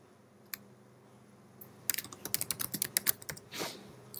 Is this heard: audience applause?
no